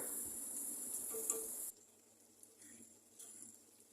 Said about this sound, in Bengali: এখন কাঁচা পেঁয়াজ দিয়ে পটল ভাজিটা আমি নেড়ে চেড়ে পেঁয়াজটা গোলাপি হয়ে গেলে আমি নামিয়ে নেব